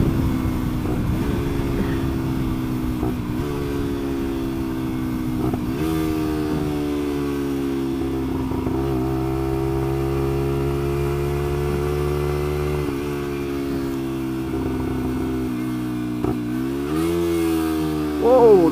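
A Lexmoto LXR motorcycle climbs a hill while holding about 68, its engine a loud, steady, close drone that wavers in pitch under load, with wind rushing throughout.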